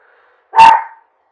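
A single short dog bark, sharp and fairly close, standing alone in an otherwise quiet room.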